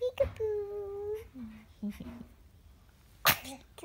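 A baby girl babbles and coos close by as an adult plays with her, then gives a single sharp sneeze near the end.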